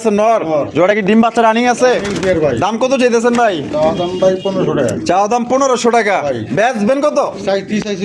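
Pigeons cooing in repeated, rounded calls at a pigeon market, close by, mixed with people talking.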